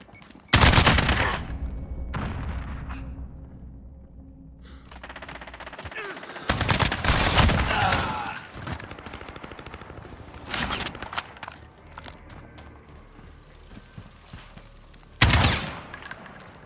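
Bursts of automatic gunfire from a Call of Duty: Modern Warfare match, loud dense volleys repeating across the clip with brief lulls, mixed with game radio voices.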